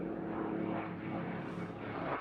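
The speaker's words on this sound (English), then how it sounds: "And so that whine that you hear is the air induction of the supercharger that sits on top of the engine." A supercharged P-51D Mustang warbird passes overhead at an airshow, a loud, continuous propeller-engine roar with a whining supercharger that swells and fades as it goes by.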